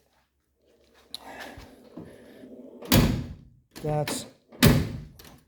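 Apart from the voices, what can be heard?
closing doors of a 1957 Chevrolet Bel Air with new gaskets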